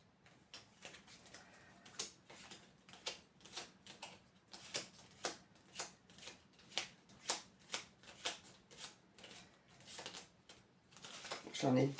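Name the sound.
shuffling an oracle card deck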